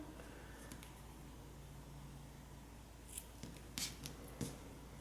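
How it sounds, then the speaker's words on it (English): Scissors snip the loose yarn tails of a crocheted daisy piece, giving a few quiet, brief cuts near the end against a faint background hum. "I'm gonna go ahead and cut these tails."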